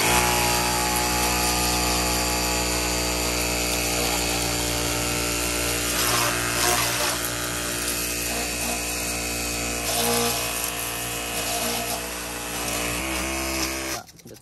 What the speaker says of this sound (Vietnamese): máy nó chập chờn quá, nó không còn ổn định này